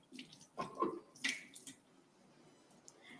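Tap water runs briefly to rinse dried smoked fish, with short splashy bursts and a few clinks near the start, then a quieter trickle.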